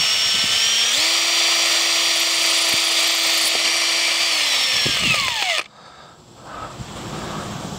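Power drill pre-drilling vent holes through a Spulse rifle prop, a loud steady whine that runs for several seconds, shifts pitch once as the bit bites, then winds down and cuts out to quiet handling noise.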